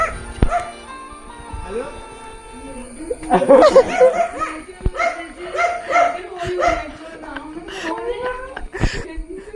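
A dog barks and yips repeatedly nearby, mixed with excited voices talking and some laughter.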